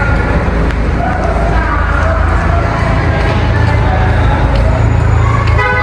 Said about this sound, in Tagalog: Ang traffic po, oh.